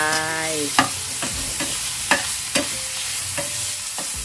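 Pork sizzles as it is stirred into a pan of pounded curry paste made with shrimp paste, shallots, garlic, chili and lemongrass, with a steady frying hiss and several sharp scrapes of the spatula, close up.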